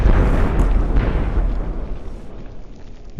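A single loud, close boom from a .50 caliber rifle shot striking coated steel plates, followed by a long rumbling decay over about three seconds, with no voices.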